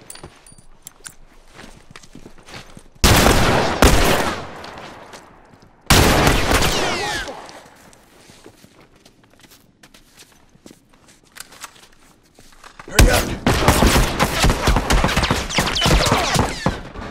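Rifle gunfire in a multiplayer match of The Last of Us Remastered, with loud bursts of shots between quieter footsteps and movement, the heaviest firing coming in a long sustained stretch near the end.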